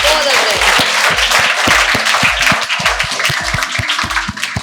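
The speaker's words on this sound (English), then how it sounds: "Okay, guys, clap for Utkarsh." Loud, close applause at an office felicitation ceremony, many hands clapping in a dense steady patter with a crowd's energy, sustained throughout without speech.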